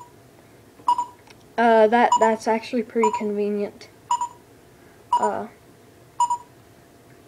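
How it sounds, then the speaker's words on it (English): Several short electronic beeps and a quick run of rising tones from a quadcopter flight controller sound close by, with a person speaking briefly between them. "ignore the beeping noise"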